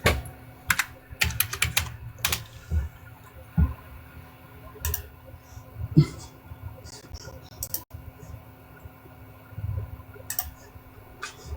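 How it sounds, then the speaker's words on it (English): Scattered bursts of computer keyboard typing, close and fairly faint, with irregular pauses, a steady low hum and occasional soft background sounds, with no talk. "I gotta type in the..."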